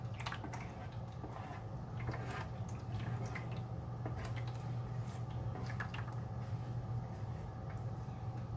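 Sweet sticky chicken sauce is scraped and poured from one pan into another, giving soft wet drips and squishy splatters over a steady low kitchen hum, close and quiet.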